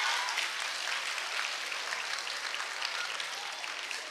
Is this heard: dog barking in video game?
no